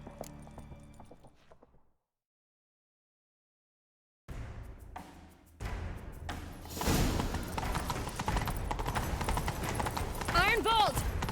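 In The Witcher 3: Wild Hunt, after a brief silence, horse hooves pound in a fast galloping rhythm that grows louder, with voices shouting over the hoofbeats.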